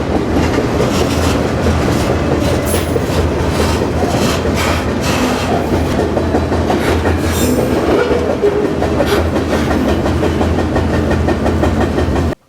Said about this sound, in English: I'm on the stack now, which is way higher priority than the grain train